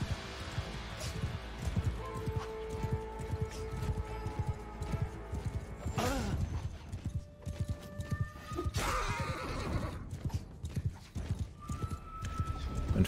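In the video game Mount and Blade 2 Bannerlord, horses of mounted archers gallop in a dense, rapid clatter of hooves, with whinnies rising over the charge and faint talk beneath.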